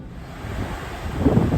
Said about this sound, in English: What the waves look like from inside the dining room. Looking pretty choppy out there.